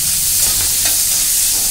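Chopped onions frying in a pan, a loud, dense, continuous hiss of hot oil with little variation, close and alone without speech.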